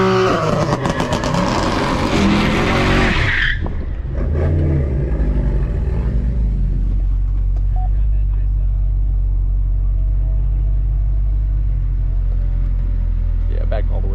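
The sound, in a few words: car doing a burnout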